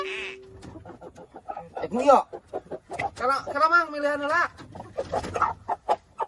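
Chickens cluck and cackle close by while people chat and bargain over buying one. The bird calls are mixed in with the voices throughout.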